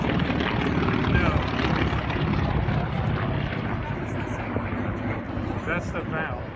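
A Val dive bomber flies past at the Chino Planes of Fame airshow in 2015, its propeller engine a steady loud drone filling the whole stretch, with crowd chatter and voices mixed beneath it.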